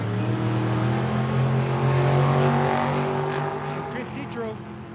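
An 87 Mustang and a 67 Camaro race down a dragstrip with loud, sustained engine roar that holds high and then fades slightly as the cars pull away, with announcer-style talk over it.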